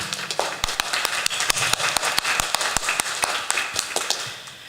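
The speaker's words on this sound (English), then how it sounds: "please give applause to Mr. Abdul Hakim" Scattered, fairly quiet hand claps for an invited speaker at an English-teaching event, individual sharp claps in an uneven rhythm rather than a full roar, heard fairly close over a faint background.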